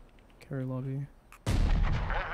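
Gunfire in Rainbow Six Siege: a brief tonal in-game sound gives way to a loud, dense burst of shots that continues to the end.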